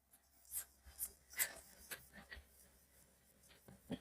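A pen writes given values for a Class 9 surface-area and volume exercise: soft, close scratching strokes in short bursts with small pauses, quiet and steady, with no talking.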